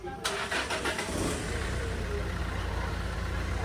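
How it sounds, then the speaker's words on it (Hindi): A Renault Duster SUV, about ten years old with around 46,000 km, cranks briefly and then catches, settling into a steady, loud, close idle that continues on its own without any talk. "तो मैं एक बार आपका इसका इंजन स्टार्ट करके मैं सुना देता हूँ।"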